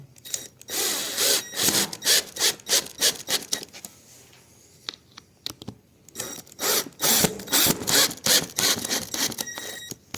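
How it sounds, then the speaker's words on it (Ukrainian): Dowels being screwed into a children's wooden tabletop, heard as close, repeated short rasping twists and scrapes in irregular bursts, with brief pauses and small knocks between them, no speech. "Дюбіля закручуємо стільницю ось таким чином."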